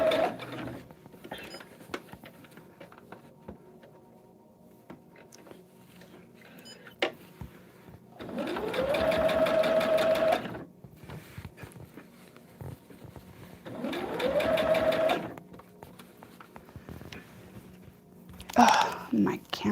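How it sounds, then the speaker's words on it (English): A sewing machine stitches a quarter-inch seam with a quarter-inch foot, running in two bursts of steady whirring lasting several seconds each, separated by quieter stretches of soft whispered talk and handling noise. "I have my 1/4" sewing foot on my machine right now. So I am sewing my 1/4"."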